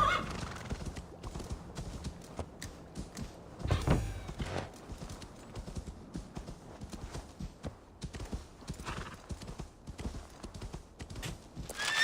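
Horse hooves clip-clop while riding in the video game Assassin's Creed Valhalla, a steady close trotting rhythm that continues throughout, with a louder burst of rustling movement near the start.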